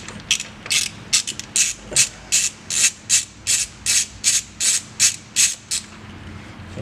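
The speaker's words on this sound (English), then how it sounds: "So here we'll take out the retaining nut." Ratchet wrench loosening a rusted, salt-corroded fuel injector retaining nut, a steady run of about fourteen sharp ratcheting bursts in even rhythm, close and clear with no talk.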